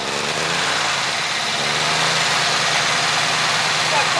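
An old classic car engine runs at idle with a steady, rough, broadband rumble, held close and constant for a few seconds.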